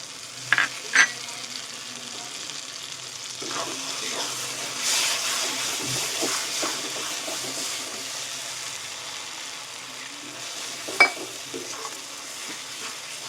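In a pan for crab curry, a spice paste fries with a soft, continuous sizzle, broken by a few sharp knocks and scrapes of a spoon stirring it close by.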